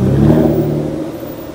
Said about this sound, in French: petite DBS volante noire, incroyable. Donc le V12 atmosphérique,